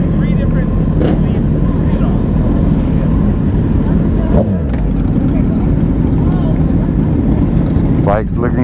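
A Ducati motorcycle engine rumbles loud and steady at a street meetup of riders, its drone continuous with wind buffeting the microphone throughout.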